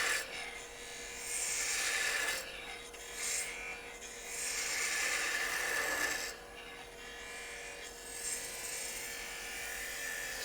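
A knife carves wood in downhill cuts, raising shavings with soft rasping strokes that swell and fade in irregular passes, close and fairly quiet.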